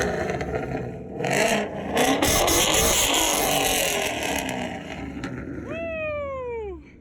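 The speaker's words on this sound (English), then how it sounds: "Rev it up, baby!" A Ford Mustang GT500 at a car show revs loudly in a couple of rising, sustained pushes that then ease off, ending with a sharp whining pitch sweep as the engine drops back.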